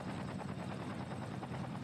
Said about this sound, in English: And our fire helicopters are off again.